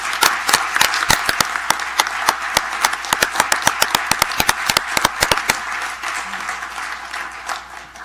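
A crowd applauding at a school district board meeting, with sharp individual claps standing out over a dense patter that gradually thins and fades toward the end.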